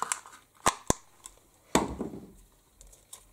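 A label punched out of a leftover scrap of Merlot red cardstock during card making, heard as a few sharp snapping clicks of the punch with short gaps between them, close and fairly quiet, with no talking.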